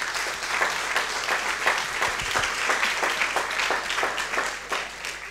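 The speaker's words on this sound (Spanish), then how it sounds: "Vamos a darle un fuerte aplauso al Señor." Applause from a congregation during a church service, a dense, sustained round of clapping from many people, steady and moderately loud from start to finish.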